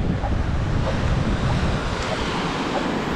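Surf rolls steadily onto the shore of Koh Rong Island, Cambodia, on a white-sand beach with clear water. The wash is broad and continuous, with wind noise over the microphone and no speech.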